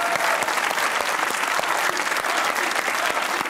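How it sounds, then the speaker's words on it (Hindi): Dense, steady audience applause fills the whole stretch, loud and close, with many overlapping claps from a crowd at a televised debate show. "ताली बजाओ मेरे लिए यार"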